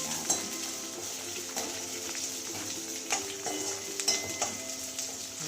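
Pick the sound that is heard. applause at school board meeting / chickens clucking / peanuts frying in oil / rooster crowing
peanuts frying in oil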